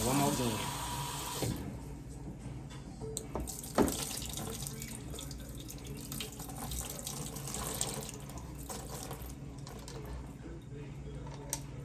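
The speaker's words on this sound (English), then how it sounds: "I'm just rinsing it out." Tap water runs steadily into a kitchen sink while raw chicken is rinsed under it, a continuous close splashing stream with a voice talking over it.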